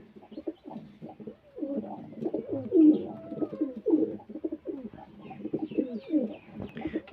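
Kasna pigeons sitting on eggs in a breeding setup coo in soft, repeated, throaty rolling calls, close by and steady with short pauses, and no voices over them.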